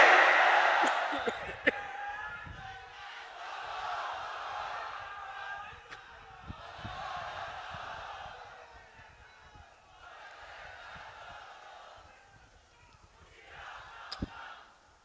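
A large crowd at an outdoor religious sermon gathering shouts back in unison to a takbir call. The answer comes in several swelling waves of massed voices, loud at first and then slowly fading.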